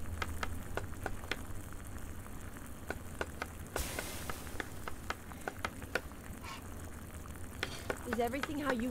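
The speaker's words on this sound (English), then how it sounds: "Okay, we need to make shallot confit in the frying pan, apparently." Shallot confit frying in a pan in the Chef Life restaurant video game: a steady quiet sizzle with a soft crackle, dotted with sharp clicks and a brief louder hiss partway through.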